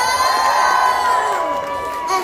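Audience at a film meet-and-greet cheering and shouting loudly together, a dense sustained roar of voices with whoops rising and falling, close and energetic.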